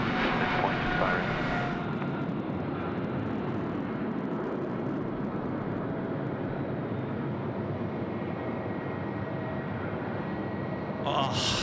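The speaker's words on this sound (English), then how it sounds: "that was a mega departure there from our Air China friends getting away" An Air China airliner takes off at Sydney Airport, a sustained, broad jet roar that stays loud and fairly steady throughout from a moderate distance.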